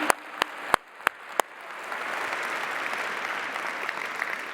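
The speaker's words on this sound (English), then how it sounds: "would you give them a round of applause right now?" A few sharp, separate claps ring out, then a conference audience at the Misk Global Forum 2022 breaks into sustained applause that holds steady at a moderate distance.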